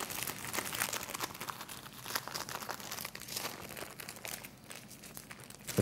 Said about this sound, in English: Now we need to take off the greaseproof paper.